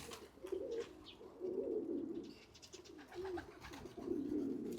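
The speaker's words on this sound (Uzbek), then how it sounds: "Kaptarlar." Pigeons coo near the listener in soft, repeated low, throaty phrases. Faint chirps and the rustle of birds moving sound in the background.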